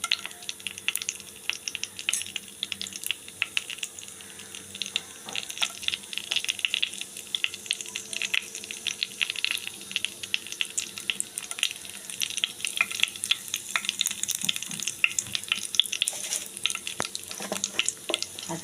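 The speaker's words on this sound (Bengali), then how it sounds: "এখন তেলটা গরম হয়ে গেছে, মশলাটাও ভেজে এসছে" Whole garam masala with dried red chilli and bay leaf fries in hot oil, a constant crackling sizzle with dense rapid pops and occasional stirring scrapes, close and steady, no talk.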